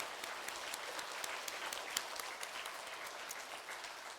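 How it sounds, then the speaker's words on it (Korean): Applause from a church congregation in a Catholic church, steady clapping that carries on for several seconds, moderately distant and fairly quiet. "선생님께 다시 한번 뜨거운 박수를 쳐주시기 바랍니다"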